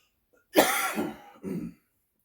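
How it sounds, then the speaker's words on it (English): A person coughs twice, close by: a harsh throaty cough followed by a shorter second one. "I got a cough."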